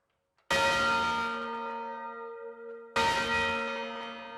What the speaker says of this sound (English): Before we hear this bell ring, we need to put our ear muffles on.